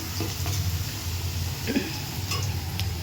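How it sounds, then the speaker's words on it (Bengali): Potatoes and onions fry in a pan while savory vermicelli is made, giving a steady low sizzle with a few light clinks of a utensil against the pan. "আলু পেঁয়াজটা ভেজে নিচ্ছি"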